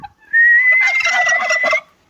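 A male turkey tom separated from the hens on a farm lets out one loud, close gobble, a rapid warbling burst lasting over a second with no other sound.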